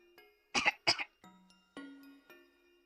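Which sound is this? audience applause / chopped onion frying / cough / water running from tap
cough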